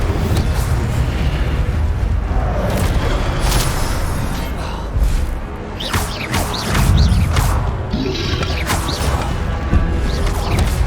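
Fire spell blasts in a Hogwarts Legacy duel, a dense run of loud booming, crashing bursts layered over constant rumbling battle noise, with a few sharper cracks near the middle.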